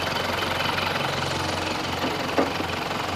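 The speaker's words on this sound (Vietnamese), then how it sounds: "Máy êm à." A 2007 Isuzu Hi-Lander pickup engine idles steadily up close, producing an even, low mechanical hum with a faint rhythmic knock and a brief small clatter near the end.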